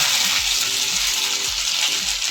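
Whole cumin seeds and ginger sizzle in hot oil in a pan on a gas stove, a loud dense hiss held steady and close, with a faint repeating tonal pattern underneath.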